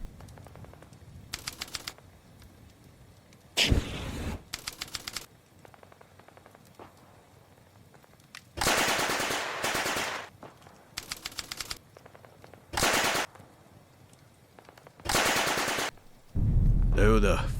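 Submachine guns in a cinematic Bolt Action tabletop battle scene rattle out in repeated short and long bursts, loud and close, separated by quieter ambient stretches.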